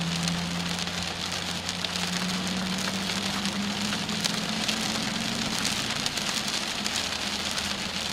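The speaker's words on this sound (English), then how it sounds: "We're getting a little bit of small hail at the moment" Small hail and rain patter densely and steadily on a vehicle during a severe, tornado-warned storm in western Oklahoma, with an idling engine humming low underneath and no talking.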